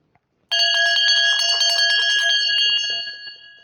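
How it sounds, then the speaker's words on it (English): A hand bell is clanged repeatedly, producing a loud, bright ringing with rapid strikes that sustain for about three seconds and then fade, with no talk over it. "It's been a while since we clanged the bell at you."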